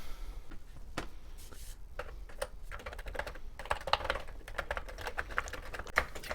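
Keys clicking on a TI-99/4A home computer keyboard, a run of close, crisp taps in uneven rhythm that grows quicker and denser toward the end, with nothing else heard.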